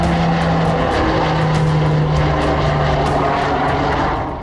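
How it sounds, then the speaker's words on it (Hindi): A Polish L410 Turbolet twin-propeller aircraft on routine patrol flies close by, giving a loud, steady turboprop drone with a constant humming tone that fades slightly at the very end. "पोलैंड का L410 टर्बोलेट विमान रूटीन पेट्रोलिंग पर था।"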